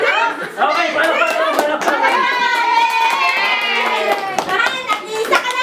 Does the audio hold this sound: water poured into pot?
no